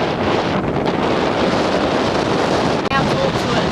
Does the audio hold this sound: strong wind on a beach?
yes